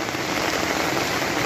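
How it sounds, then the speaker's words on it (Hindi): Heavy rain falls hard outdoors, a dense, steady wash of drops hitting surfaces all around, with no voices. "इतना बड़ा बारिश, बाप रे"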